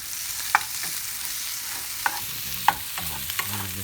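Gumbo ingredients stirred and pushed around in a small skillet, a steady close sizzle of frying broken by a few sharp scraping clicks of the utensil against the pan, with no talk.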